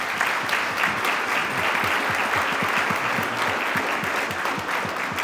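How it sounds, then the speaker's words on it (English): Audience applause for a panel at a live construction business event, steady dense clapping from a room full of people, continuous for several seconds. "let's give our panel a round of applause"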